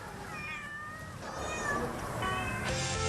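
Cats meow at a crowded shelter housing about 300 sick and abandoned cats in Parung, Bogor, with several clear, fairly close meows overlapping over a low background of noise.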